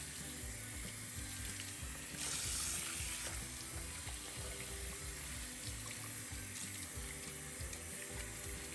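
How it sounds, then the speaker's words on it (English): Cool running water pours steadily from a tap while a human hair wig is rinsed under it, a continuous close splashing hiss with a brief louder gush partway through. "Next, we're going to rinse extremely well, again with cool lukewarm water."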